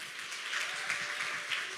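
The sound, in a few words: audience applause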